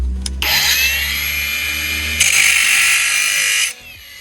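A power tool cuts through nails embedded in pallet wood, giving a loud, steady high-pitched whine that grows harsher partway through and lasts about three seconds before stopping abruptly.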